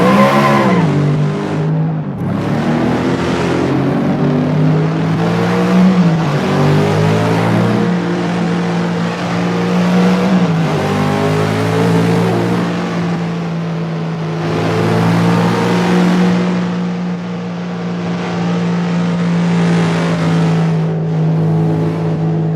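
Racing car engines in a car racing video game with 10% turbo and three rival cars drone loudly and continuously, pitch climbing and dropping through repeated gear shifts as the revs rise and fall.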